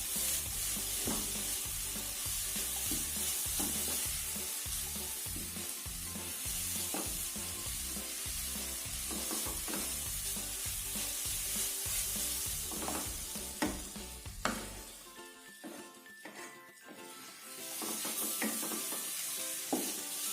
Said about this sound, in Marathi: वन टीस्पून घेतलेली आहे ती टाकायची व्यवस्थित परतवून घ्यायचं आहे